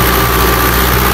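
A Fiat 640 tractor engine runs steadily under load while driving a 60-cutter rotavator in a field. The drone is loud, continuous and close, with no break or voices.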